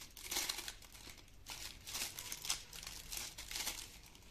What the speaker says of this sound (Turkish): Paketimiz çıktı. Onu da açıyorum.